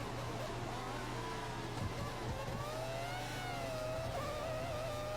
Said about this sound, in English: As 2 Ferraris are pulling away